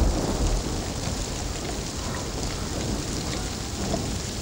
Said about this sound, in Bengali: মনে তো হচ্ছে আসমান ফুটা হয়ে বৃষ্টি নামতেছে।